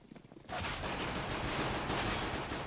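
Pistol fire erupts in a Counter-Strike match on de_train, a sudden loud burst of rapid overlapping shots that starts after a quiet half second and keeps going densely to the end.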